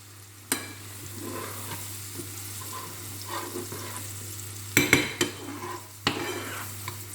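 Beef browns in a frying pan with a steady low sizzle, broken by a few sharp clinks and scrapes of a utensil against the pan, close by with no voices.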